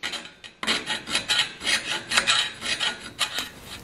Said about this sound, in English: Just cleaning up the welds a little bit, yeah.